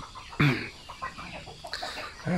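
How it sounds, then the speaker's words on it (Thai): Chicks on a farm chirp and cluck while waiting for feed on a morning, with several short, scattered calls at close range and a few louder peeps. "อันนี้ลูกเป็นลูกไก่ก็รอกินอาหารนะ"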